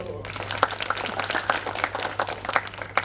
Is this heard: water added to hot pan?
no